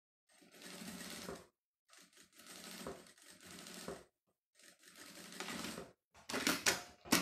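Sewing machine stitching bias binding onto fabric, with three runs of fast close mechanical whirring separated by short pauses, then a few quicker bursts at the end.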